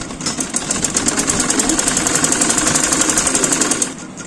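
A sewing machine stitching elastic into trousers runs in a loud, fast, steady mechanical chatter close by for several seconds, then stops near the end.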